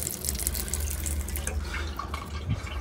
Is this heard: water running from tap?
yes